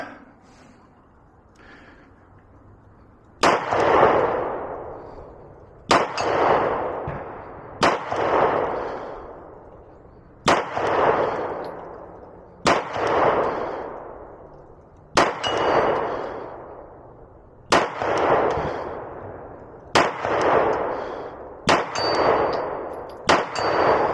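A Beretta 92FS Compact pistol fires about nine separate shots at targets 50 yards out, each a sharp loud crack with a ringing decay, spaced a few seconds apart on an outdoor range.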